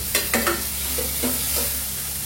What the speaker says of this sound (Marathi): आता टोमॅटो घालून 1-2-3 मिनिटं पुन्हा परतून घ्यायचं आहे.